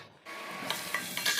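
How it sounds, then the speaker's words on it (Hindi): Potatoes frying in oil in a pan, browned and giving off their oil, make a steady close sizzle that starts abruptly after a brief quiet moment, with a few louder crackles and spatters on top. "जब आलू को भुन जाते हैं खूब अच्छे से, देखिए लाल लाल से हो गए हैं आलू भुन के, तेल छोड़ दिया है"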